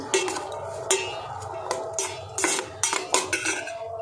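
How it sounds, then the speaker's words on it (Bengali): Salt being mixed into cooled pasta in a bowl, with a spoon scraping and clinking against the dish in a series of near, irregular knocks and scrapes, no talking. "লবণটা মাখিয়ে নিই।"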